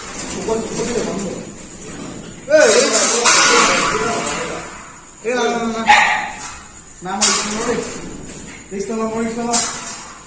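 Several dogs bark and yip in repeated bursts at a farm, fairly close, with voices talking in between.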